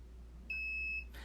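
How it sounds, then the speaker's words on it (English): A single short, clear electronic beep lasting about half a second sounds as the unit powers on from its main switch, high-pitched and steady over a quiet low hum. "the beep sound actually is telling you, okay, the unit is ready for use"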